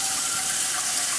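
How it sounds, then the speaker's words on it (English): Water pours into the bottom half of a steamer basket pot in a loud, steady, close rush with no pauses. "So I'm going to pour some water in there."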